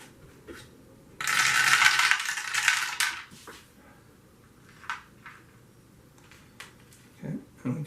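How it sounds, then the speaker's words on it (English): Dice for The 19th Hole golf board game are rolled, giving a dense clattering rattle for about two seconds, followed by a few softer scattered knocks and taps against a quiet room background. "So we will roll our dice."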